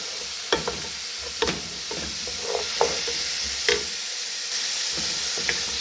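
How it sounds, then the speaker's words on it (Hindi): Beef roasting with onions and spices in a pot for yakhni pulao, a steady sizzle broken by occasional stirring scrapes and clinks, close and moderately loud with no talk. "गोश्त हमारा बिल्कुल इसमें प्याज और मसालों का रच बस कर अच्छी तरह भूनेंगे"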